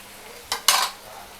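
Fish fry pieces being stirred and flipped in a pan, heard as two short scraping clatters of a utensil against the pan over a faint background.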